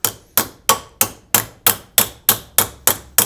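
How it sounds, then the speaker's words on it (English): Eleven evenly spaced metallic hammer blows forming a bead in sheet metal for a 1952 M38 military Jeep, sharp and ringing, close by in a steady rhythm, with nothing else heard. "I just simply take this part of the hammer"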